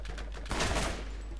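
A burst of gunfire in the video game Borderlands, one loud rapid volley in the middle of the clip over a constant low in-game rumble.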